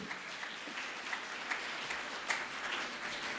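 Applause from an audience at a children's assembly event in Rawalpindi/Islamabad, a steady, fairly faint wash of clapping running throughout with no talk over it.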